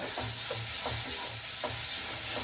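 Onions sauté in a pan with a continuous loud sizzle and rhythmic scraping strokes of a spatula about every half second, close up, no voices.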